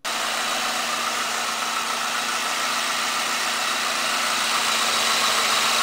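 A 2010 Ford Ranger pickup engine idling steadily just after a cold start, a close, even mid-pitched hum with a constant drone and no talking.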